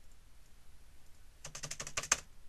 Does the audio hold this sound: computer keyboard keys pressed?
yes